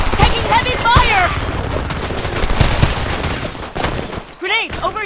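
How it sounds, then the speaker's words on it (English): Heavy gunfire in the Homefront video game, with loud, close bursts of rapid shots, some crackling and echoing, while soldiers' voices shout over the shooting. "Taking heavy fire!"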